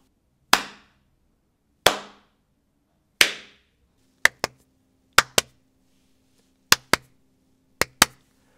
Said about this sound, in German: ich mache jetzt nochmal für euch den Klatschtest, denn ich stehe jetzt hier in meinem neuen optimierten Studio